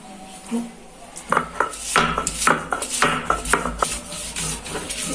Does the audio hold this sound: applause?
no